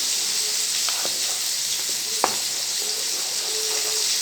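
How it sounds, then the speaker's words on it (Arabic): Molokhia with shrimp in a pot makes a steady hiss-like simmer, with a few soft stirring knocks and one sharper clink against the pot partway through. It is close and constant, and no one talks. "نبدا كده نقلب الملوخيه كويس"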